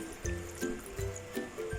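Vinegar is poured into a cooking pan for adobong dilis, a short trickling splash of liquid in a few quick bursts, close by and fairly faint.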